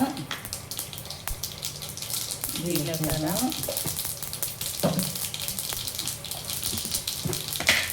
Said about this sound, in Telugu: ఇప్పుడు తిరగబాత స్టార్ట్ చేయాలి. ఆవాలు 1 టీ స్పూన్, జీలకర్ర,